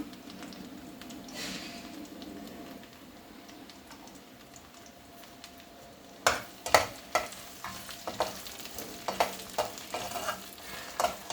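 Mustard seeds, cumin, dried red chillies and crushed garlic fry in hot oil for a sambar tempering. A low steady sizzle gives way to sharp irregular pops and crackles that grow busier, close and fairly loud.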